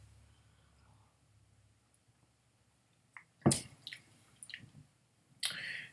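Water is poured into a glass of single-cask wheat whisky in a quiet room, a short close splash followed by a few small drips and clinks.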